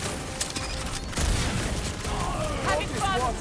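Gunfire and mechanical weapon clatter in the Guardians of the Galaxy video game, fired at a large creature; a dense, continuous burst of shots and impacts under game voices.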